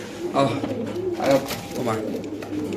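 A white King pigeon coos in low, soft bursts close by, with a person talking over it.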